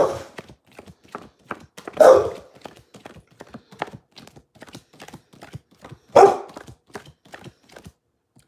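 A dog barks twice from across a room, two loud separate bursts a few seconds apart over faint tapping and rustling, with no speech.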